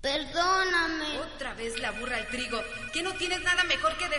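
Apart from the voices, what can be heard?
No everyday noise stands out behind the speech.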